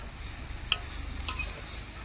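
Chickpea greens bhaji stir-fried in a pan, a low steady sizzle with a couple of sharp scrapes of the spoon against the pan.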